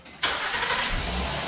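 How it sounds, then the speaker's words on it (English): A 2009 Honda Accord V6 with a newly replaced alternator cranks and fires up in one sudden loud start, then settles into a steady, close engine hum. "I'll take a video of us starting the car"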